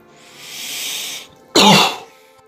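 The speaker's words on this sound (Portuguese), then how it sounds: "Essa tosse não acaba nunca" A long breathy exhale gives way to one sharp, harsh cough, close to the listener.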